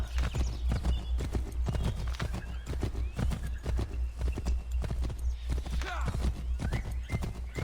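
Horse hooves galloping in the Assassin's Creed III video game, a steady rapid clip-clop that runs throughout, with a whinny and a constant low game rumble underneath.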